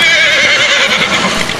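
A horse neighs loudly and continuously, a drawn-out whinny with a wavering pitch, accompanied by faint clip-clop hoof sounds, heard alone without any speech.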